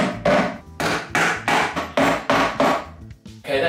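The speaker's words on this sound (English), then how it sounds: "I'm going to hammer these screws in because you can still feel them a little bit." Screws in a pine chest of drawers are struck with a hammer during refurbishing, about eight loud, close, evenly spaced blows with brief gaps between, and no talking.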